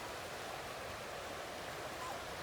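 The River Brathay flows in the Lake District, a steady, faint wash of running water with no break, like a stream heard from a short distance.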